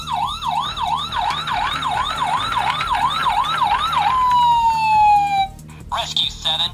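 An ambulance siren wails loud and close, rising and falling in a steady repeated cycle, then sweeps into a long descending tone before cutting off amid background noise.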